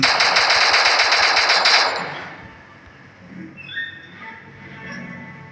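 Rapid automatic gunfire in the Free Fire mobile shooter game, a loud dense burst lasting about two seconds that then cuts out into quieter game ambience and faint effects.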